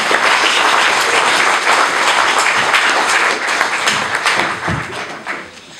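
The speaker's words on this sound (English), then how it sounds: "let's have a big round of applause for him stepping in" An audience at a talk on homelessness and health in Vancouver applauds loudly and steadily for several seconds before the clapping tapers off.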